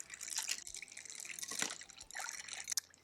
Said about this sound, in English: So stir in your ziti pasta.